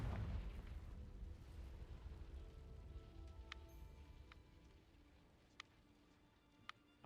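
A Confringo blasting spell detonates in Hogwarts Legacy, a deep rumbling boom at the start that fades away into quiet, followed by a few faint sharp clicks.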